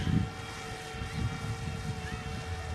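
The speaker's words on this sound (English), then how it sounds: "so I'm to get the drone up to 40 meters" A DJI Mavic Mini drone climbing outdoors makes a steady, whining propeller buzz with layered tones that holds at an even level for the whole stretch.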